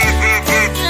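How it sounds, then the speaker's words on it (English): An Indian runner duck quacks in two close, loud, harmonic calls, heard near and alone with no talk. "I is for Indian runner duck."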